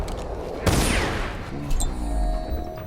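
Gunfire in a video game: a sharp burst of shots near the start, then scattered reports and a further crack over a busy, moderately loud battle background.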